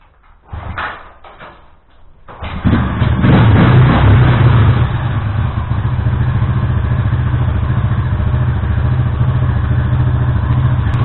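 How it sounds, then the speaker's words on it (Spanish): A few clunky kicks and knocks, then a kick-started motorcycle engine sputters to life and settles into a loud, steady idle that runs on continuously. "lo único que tengo que hacer es patear la moto y arrancarla"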